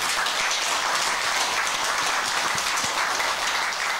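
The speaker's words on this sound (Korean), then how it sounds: "축하의 박수를 한번 보냅시다" A Buddhist congregation at a Sunday dharma gathering claps in steady, dense applause, loud and continuous with no voices.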